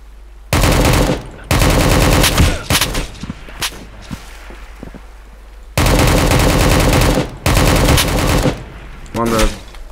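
Long, loud bursts of automatic gunfire in the video game Project Delta, dense rapid rattling in repeated runs separated by brief gaps with scattered single shots, and a voice speaking briefly between bursts.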